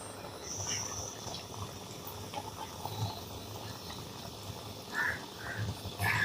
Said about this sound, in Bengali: ওরকম গরম তেলই বাকি মিষ্টিগুলোকেও দিয়ে ভেজে নিচ্ছি